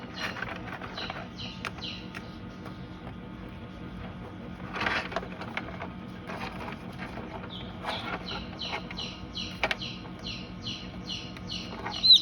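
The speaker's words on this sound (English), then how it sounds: "Sweet little quails. They're so small." Newly hatched small quails on a farm give tiny repeated high chirps and peeps, rapid clusters of short calls against a quiet background hum, close and faint.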